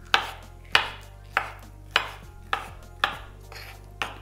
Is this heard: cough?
no